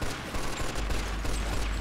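Rapid bursts of gunfire in the video game Mafia II crackle loudly, shots overlapping in a dense barrage over a heavy low rumble.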